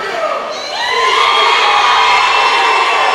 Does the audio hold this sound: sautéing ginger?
no